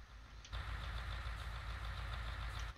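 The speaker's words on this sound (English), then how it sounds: "Left engine running, whoops." A farm vehicle's engine idles in Farming Simulator 19 while parked at a log sales bay, a steady low rumble that starts abruptly after a brief pause and continues evenly at close range.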